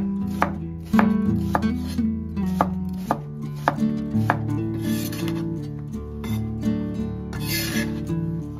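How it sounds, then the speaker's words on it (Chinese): A knife cuts peeled angled luffa gourd into slices on a board: a series of crisp, close chopping knocks at an uneven pace, with soft rubbing and scraping between strokes, no voices. "丝瓜去皮，洗净后切片"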